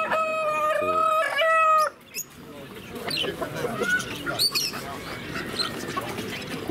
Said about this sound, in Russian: Куры, куры.